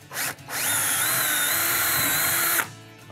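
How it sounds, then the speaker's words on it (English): A power drill bores a small pilot hole for a barn door installation, a close, steady whine lasting about two seconds after a brief initial blip. "Initially, I'm gonna be drilling a small pilot hole, then enlarge the hole."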